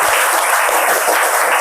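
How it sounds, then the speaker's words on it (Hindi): Loud, close applause greets a child contestant at a kids' GK quiz, a dense burst of many hands clapping that fills the short moment evenly. "रंजन के लिए एक जोरदार ताली होनी चाहिए"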